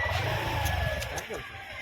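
A car's engine hums low and steady as the vehicle is eased into a parking spot on a busy street, with faint voices and background bustle.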